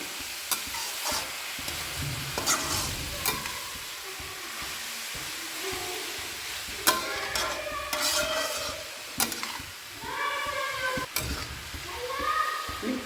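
Grated carrots for gajrela sizzle as they roast in ghee, with a spoon scraping and stirring in uneven strokes; a few brief voices come and go in the background.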